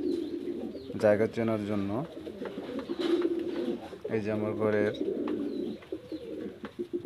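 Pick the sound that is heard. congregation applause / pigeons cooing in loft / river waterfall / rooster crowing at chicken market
pigeons cooing in loft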